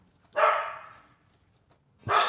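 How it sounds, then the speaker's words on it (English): A dog barks twice, loud and close, with a brief fading tail after the first bark and a quiet gap before the second. "When there's Lulu barking"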